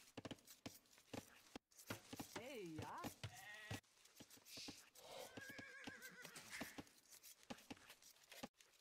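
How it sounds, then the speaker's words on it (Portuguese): Horses neigh and whinny in an Age of Empires match, with several loud calls standing out over clicks and in-game effects while people talk throughout. "Cavalo do Onfire tá no auto-scout ali, ó"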